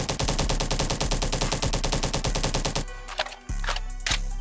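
An assault rifle in the video game Bad Business fires a loud, sustained automatic burst of rapid, evenly spaced shots, then falls briefly quiet before a few separate single shots ring out.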